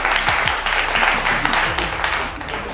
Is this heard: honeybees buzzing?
no